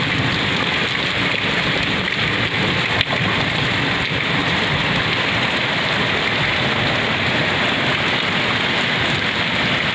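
Steady, dense rain pours down without a break, a constant hiss of drops hitting surfaces all around.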